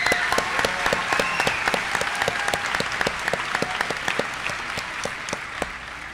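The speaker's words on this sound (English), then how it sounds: "Let's give him a big round of applause." A graduation audience claps for a graduating student, a full, sustained round of applause with crisp individual claps standing out, steady and fairly loud throughout.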